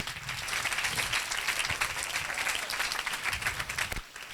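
A church congregation claps and cheers in acclaim of the Lord, dense sustained applause filling the room for about four seconds before dropping off abruptly near the end.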